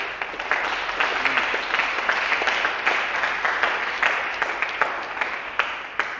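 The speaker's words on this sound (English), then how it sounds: "Clap your hand for what I just said." A church congregation claps during a sermon, a dense burst of applause that swells and stays steady, with scattered sharper individual claps throughout.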